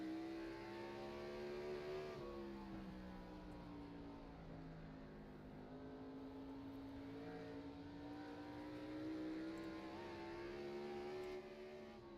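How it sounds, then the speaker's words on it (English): An iRacing stock car in a Grand National Series race drones at high revs under load, its engine pitch dipping and climbing again as the wheels spin up over bumps, steady and close. "You can hear the wheels spinning up a little bit as Eddie hits those bumps,"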